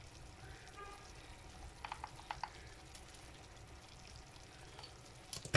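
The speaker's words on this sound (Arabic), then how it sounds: "ها هو تقلى لينا، تقلاو دوك الحيمات مزيان وطلقوا داك الماء ديالهم" Small pieces of meat frying in a pan for a tagine, a steady low sizzle running throughout with a few brief clinks partway through.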